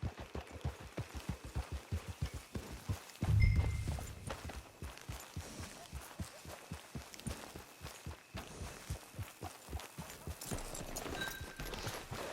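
Horse hooves walking in the video game Red Dead Redemption 2: a regular clip-clop of steps at an even pace, close and clear, with a brief thump partway through and faint game ambience behind.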